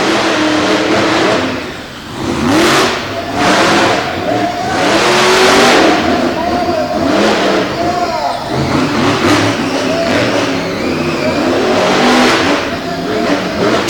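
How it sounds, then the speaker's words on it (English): High-horsepower Eddie Chassis race cars from Lawtons, New York, roar loudly and continuously at an indoor track, engines surging in repeated revving bursts, with an announcer's voice partly audible over the din. "as they staged up this pair of high horsepower Eddie Chassis machines out of Lawtons, New York"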